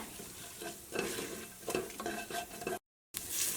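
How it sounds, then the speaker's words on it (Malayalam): Coriander powder roasting in a pan for a coconut-free green gram curry, a close, steady sizzle with repeated scraping stirs of a spoon, briefly cut off near the end. "ഇനി മല്ലിപ്പൊടി ഇതിനകത്ത് കിടന്നിട്ട് നന്നായിട്ട് മുരിയട്ടെ."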